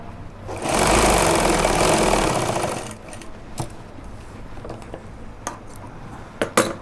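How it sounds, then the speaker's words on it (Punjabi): A sewing machine stitches a pajama pocket in one loud continuous run of about two seconds, followed by quiet handling with scattered clicks and light taps. "ਥਲੜੀ ਸਾਈਡ ਇੱਥੇ ਫਿਰ ਆਪਾਂ ਸਲਾਈ ਮਾਰਾਂਗੇ"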